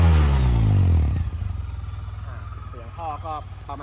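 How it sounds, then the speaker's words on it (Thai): Suzuki Burgman 650 ABS scooter with a titanium-tipped stainless full exhaust revs hard, a loud deep engine roar dropping into a steady throbbing idle, with a voice talking briefly near the end. "เสียงท่อไอเสียเดี๋ยวให้ฟังกันดูนะครับ"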